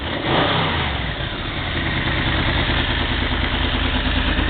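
A Yamaha Venture motorcycle engine revs steadily during a carburetor sync, a close, loud, continuous low throb with a rapid regular firing pulse and no talking.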